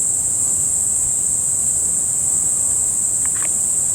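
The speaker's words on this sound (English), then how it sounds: "Can you hear the cicadas in the background?" Cicadas buzzing outdoors in nature, a loud continuous high-pitched drone holding steady from start to finish over faint background rustle.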